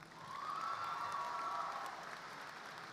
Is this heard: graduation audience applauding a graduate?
yes